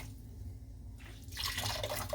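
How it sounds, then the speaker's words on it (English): Felted wool is rinsed in cool water with faint drips at first, then a louder rush of running or splashing water in the last second, all quiet and close. "So apparently the next steps are to rinse it in cool water, soak it for 20 minutes or something,"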